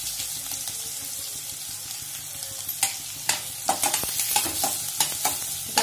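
Green chillies and curry leaves crackle and sizzle in hot oil in a home kitchen while cabbage bhaji is made, a steady hiss broken by sharp pops and spoon scrapes that grow busier in the second half.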